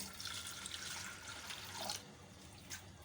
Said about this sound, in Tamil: ஒரு கப் வந்து நான் தண்ணி சேர்த்துக்கிறேன்